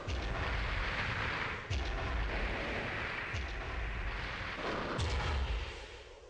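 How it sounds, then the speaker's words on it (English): Weapons fire in the video game Armored Core booms continuously, heavy repeated blasts and thuds over a dense roaring backdrop, loud and close throughout. "Please stop shooting me."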